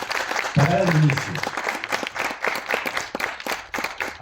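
Audience applause at the opening of an academic course on research innovations, a crowd clapping steadily for several seconds while a presenter speaks over it.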